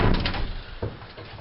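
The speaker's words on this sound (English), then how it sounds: "I guess I can shut this door." A door in a house basement being shut during a walk-through, giving a quick muffled thump at the start and a second softer knock shortly after, close by with no talk.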